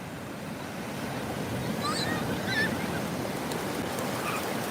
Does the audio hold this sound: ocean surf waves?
yes